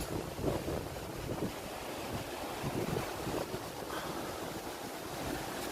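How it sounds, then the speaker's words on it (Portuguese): Strong storm wind gusting over a rural property with eucalyptus trees, a loud, continuous blustery rush with uneven surges, buffeting the microphone, and no voices. "Olha só o vento."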